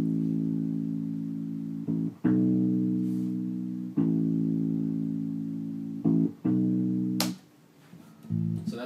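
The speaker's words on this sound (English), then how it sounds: "So listening to just the bass part sounds like this." An isolated bass guitar part from a song, played alone as a run of loud, sustained low notes that change pitch with a few short breaks and fade near the end.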